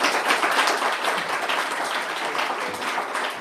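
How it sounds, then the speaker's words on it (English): Sustained applause from a conference audience, a dense, steady wash of many hands clapping at full strength throughout with no talk over it. "so big round of applause."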